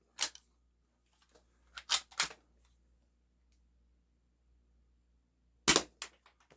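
A Game Face M311 full metal airsoft gun fires 0.12 gram BBs through a chronograph, giving several sharp close snapping shots, some in quick pairs, separated by quiet gaps.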